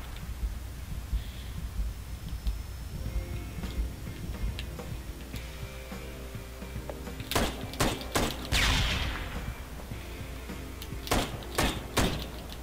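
Gunfire in the video game Ride to Hell: a quick series of sharp, loud shots, several close together and then a few more, over a low background hum.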